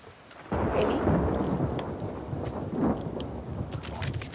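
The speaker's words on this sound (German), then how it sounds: "Gewittert das auch noch." Thunder rolls and rain pours in the video game The Last of Us Part II, a sudden loud rumble breaking in after a quiet start, then steady heavy rainfall with a second swell of thunder.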